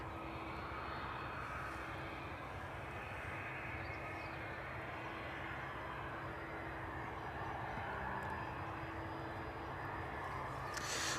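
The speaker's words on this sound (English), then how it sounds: "Looks like we've got our first outbound approaching us now." An outbound airliner rolling along the runway at East Midlands Airport on a foggy evening, a steady distant jet roar and rumble holding evenly throughout, with no talk.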